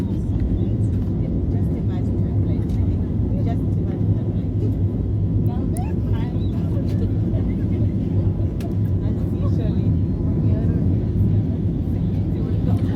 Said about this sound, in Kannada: ಟೇಕ್ ಆಫ್ ಆಗಬೇಕಾದ್ರೆ ತುಂಬ ಸ್ಪೀಡ್ ಮಾಡ್ತಾರೆ ಫ್ಲೈಟ್ನ